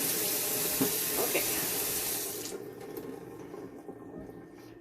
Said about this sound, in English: we're gonna just get some water on him again.